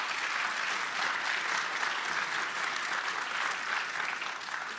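Conference audience applauds after a Kubernetes security talk, a steady, moderately distant roomful of clapping holding at an even level throughout.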